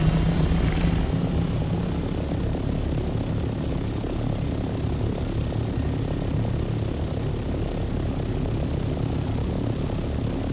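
A helicopter in the video game Dune: Awakening flies with a continuous, fairly loud rotor and engine drone that holds steady throughout, with no voices.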